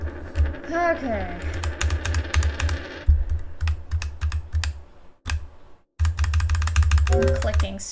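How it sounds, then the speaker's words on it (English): Rapid, loud computer keyboard and mouse clicking during a horror video game session, with continuous clattering taps that pause briefly near the end and then resume, while a person talks over the clicks. "I'm clicking so freaking loud."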